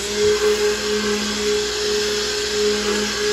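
An electric mixer whirs steadily at close range, a constant motor drone with a high whine, blending goat milk soap batter with essential oil.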